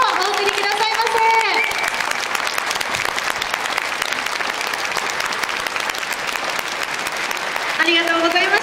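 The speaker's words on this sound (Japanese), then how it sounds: "皆様今一度大きな拍手をお送りくださいませ。" Sustained applause from a large audience after a high-school wind band's performance at a Fukuoka community event, dense steady clapping filling the whole stretch with a loud continuous wash, with brief musical tones at the start and end.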